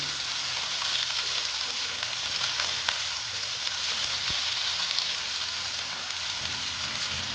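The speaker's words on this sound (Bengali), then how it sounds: "আলুগুলো দিয়ে ভালো মতো আমি ভেজে নিচ্ছি।" Potatoes fry in a pan with a steady, close sizzle and crackle that runs unbroken throughout, with no talking.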